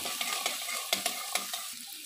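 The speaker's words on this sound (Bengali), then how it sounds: "আলুটা দিয়ে গ্যাসের ফ্লেমটা আমি মিডিয়াম করে দিয়ে এটাকে ভাজবো।" Potatoes fry in a pan on a medium gas flame for a spicy potato curry, with a continuous sizzle and repeated quick stirring scrapes and taps against the pan.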